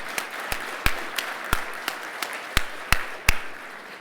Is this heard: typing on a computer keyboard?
no